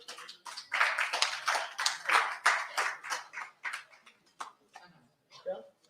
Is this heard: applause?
yes